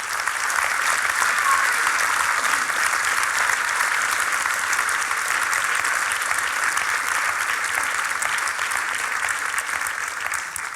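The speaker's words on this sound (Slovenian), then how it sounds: "Pa aplavz tudi." A large audience applauds at a folk dance ensemble performance, a dense, even roar of many hands clapping without pause for about ten seconds and fading slightly at the end.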